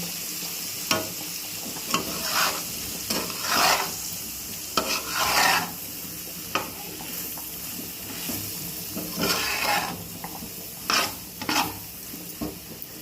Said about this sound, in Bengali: এবারে সয়াবিনগুলো এর মধ্যে দিয়ে দেব দিয়ে ভালো করে নেড়ে চেড়ে ভেজে নেবো